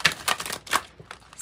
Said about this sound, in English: I'm going to shuffle it a little bit like this and then cut it